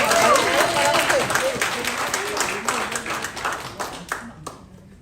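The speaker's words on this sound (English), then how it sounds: "Please give a big cheer for Nesse." At a graduation ceremony in Samoa, the audience claps and cheers loudly, a dense crowd applause with whoops and voices that gradually thins and tapers off toward the end.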